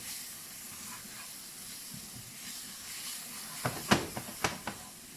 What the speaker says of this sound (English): Now we can go in with our garlic. Start to cook the garlic off a little.